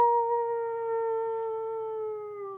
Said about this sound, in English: I think it's a whole pack of wolves